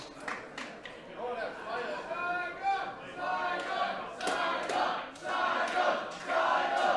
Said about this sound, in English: Saigon cheering in the background.